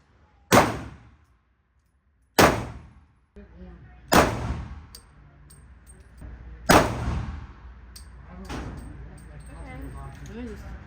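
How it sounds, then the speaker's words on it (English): AR-15 rifle shots fired at a target outdoors, four loud sharp cracks spaced a couple of seconds apart, each with a short decaying echo, followed by softer clattering and background noise. "Alright, this is my first time shooting this ammo."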